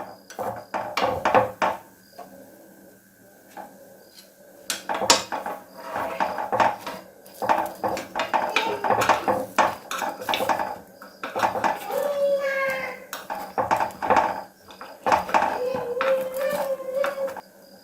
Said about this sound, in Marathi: आप्पे परतून घेऊ।